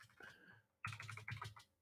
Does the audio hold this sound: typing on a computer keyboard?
yes